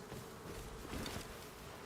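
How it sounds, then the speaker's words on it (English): Bees buzz in the survival video game Rust, a faint, steady droning hum heard alone for a couple of seconds. "Ah, being attacked by bees."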